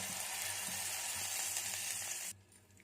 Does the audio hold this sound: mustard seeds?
yes